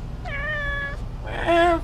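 An orange cat meows twice, close and clear: a drawn-out tonal meow followed by a shorter, brighter one after a brief pause.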